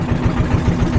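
A river boat's engine chugging steadily up close on a shallow canal, a low rhythmic throb repeating about four times a second with no voices.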